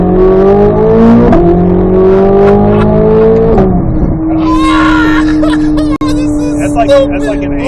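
A 2024 Chevrolet Corvette C8 Z06 accelerates hard, its engine note climbing through rising harmonics and shifting gears, then holding a strong steady drone, loud and close with people talking and reacting over it.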